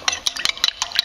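Quick, light stirring of chicken stock dissolving in water in a bowl, a utensil clinking and scraping rhythmically about five times in a second, close and distinct.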